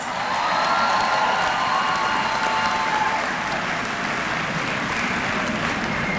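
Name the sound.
applause for the honor graduates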